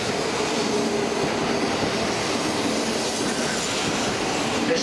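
A JR East E5 Shinkansen train rolls steadily past close by at a Tokyo Station platform, continuous rumbling wheels with faint squeal and rhythmic clatter, no voices.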